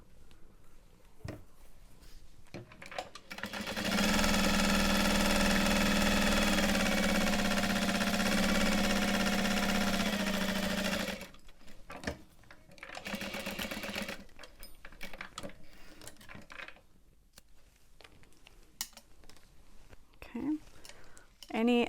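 A sewing machine top stitching around the edges of a fabric bag: a steady, close motor whir of about seven seconds, with soft murmured talk and handling noises before and after it.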